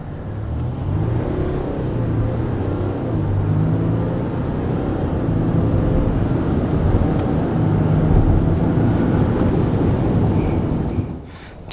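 A diesel pickup truck, either a 2023 Chevy Silverado with the baby Duramax or a RAM 1500 EcoDiesel, accelerates hard from 0 to 60. Heard from inside, the engine drones loud and continuous with rising tone through the gear shifts before cutting off abruptly at the end.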